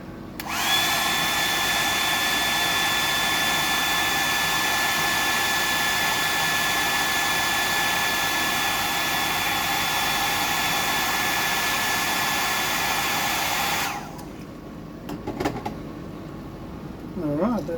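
A blower dryer runs to dry a freshly tied hard-headed fly, a steady, loud whirring rush of air with a thin whine. It holds for about fourteen seconds, cuts off, and leaves quiet handling noises.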